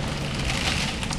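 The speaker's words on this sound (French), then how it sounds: "je suis désolée si vous entendez la pluie" Steady rain falling outdoors, a dense, even broadband hiss of drops heard from indoors, continuous and moderately loud without any voice.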